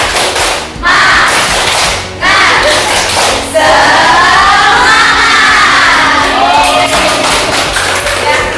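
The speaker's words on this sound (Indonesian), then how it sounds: "kita tepuk semangat dulu ya" A school biology class performs a rhythmic spirit clap, with loud, hard thumping claps in quick bursts and children shouting together, close and filling the room.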